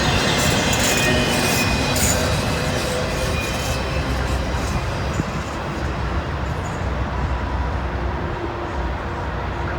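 An intermodal freight train rolls past near a CSX and NS junction, a loud, continuous rumble and rattle of wagons with faint wheel squeal, sustained throughout and slowly fading a little toward the end.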